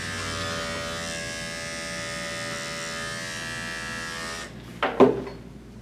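Electric clippers buzz steadily close by while they trim a dog's matted rear, a constant whine that cuts off near the end and is followed by a couple of brief handling knocks, with no talking.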